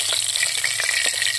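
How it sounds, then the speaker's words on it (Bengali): Fish coated in turmeric and salt fries in hot oil, a close, dense crackling sizzle with small popping bursts, steady and unbroken with no voices. "হলুদ লবণ মাখা হয়ে গেছে, এখন ভাজি নেব"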